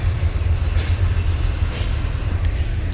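A small train passes close by, a steady low rumble with faint rail clatter running through the whole stretch and no voices over it.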